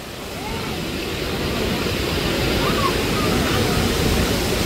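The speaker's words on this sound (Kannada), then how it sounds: "ನೀರು ಎಷ್ಟು ಚೆನ್ನಾಗಿ ಬೀಳ್ತೈತೆ" Hogenakkal waterfall in Karnataka, a continuous loud rushing roar of falling water that stays steady and dense from start to finish.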